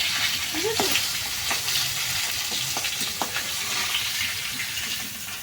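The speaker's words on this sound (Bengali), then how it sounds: "পাঙাশ মাছ এনেছে আমাদের সেই মাছটা ভাজা বসিয়ে দিয়েছি" Pangas fish frying in a pan over a clay stove, a dense steady sizzle with occasional pops and crackles, close and continuous with no talk.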